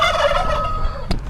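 Turkeys gobble in a burst of rapid warbling calls, close and loud, followed by a short sharp knock near the end.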